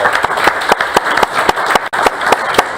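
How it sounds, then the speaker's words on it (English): A school board meeting crowd gives teachers a round of applause, steady clapping with sharp individual claps standing out near the front throughout. "Let's give our teachers a wonderful round of applause"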